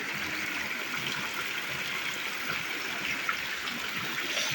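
Rapti river water runs from a stone spout beside a pond at the 108-spout shrine of Triveni Dham in Hetauda, making a constant close splashing rush that holds steady throughout.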